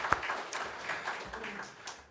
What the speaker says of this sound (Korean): 하나님께 영광의 박수 먼저 한번 올려드립니다.